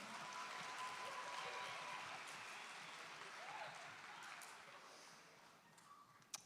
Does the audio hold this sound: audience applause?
yes